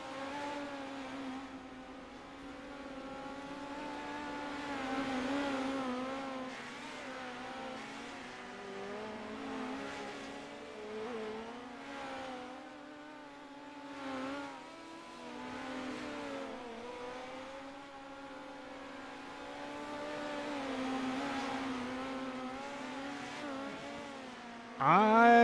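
Midget race cars circle the dirt oval at Lernerville, a steady droning engine note rising and falling as cars pass, heard faint and distant with a swelling whine near the end.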